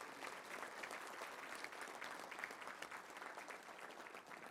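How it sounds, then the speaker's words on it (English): An audience at a Little Rock Touchdown Club luncheon applauds its sponsors, a steady, dense wash of many hands clapping at once that carries evenly through the whole stretch with no voices. "let's give all those sponsors a big round of applause"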